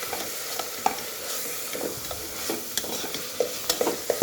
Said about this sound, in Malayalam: ഇട്ടതിന് ശേഷം നല്ലവണ്ണം ഇളക്കി കൊടുക്കാം.